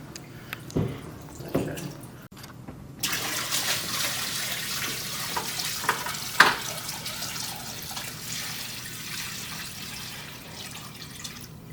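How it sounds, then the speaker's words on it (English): Salt water mixed by hand for a saltwater aquarium: close sloshing and splashing with a few sharper knocks, then a steady wash of swirling water continuing without talk. "This is how you probably shouldn't mix your salt water. Well, By hand."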